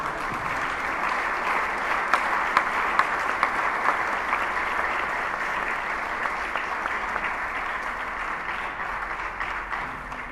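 A church congregation breaks into sustained applause, a dense, even wash of clapping that holds at a steady level from start to finish with no voices on top.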